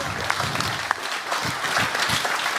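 Live audience applause during a stand-up comedy show in Trois-Rivières, a steady wash of many hands clapping with scattered louder claps, fairly loud, with no talk over it.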